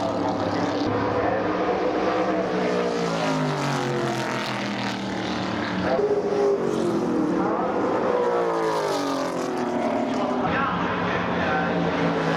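A Ford XA Falcon muscle car races around a track at a muscle car masters event, its loud engine roaring steadily with rising and falling pitch as it passes through the session, with no talk over it.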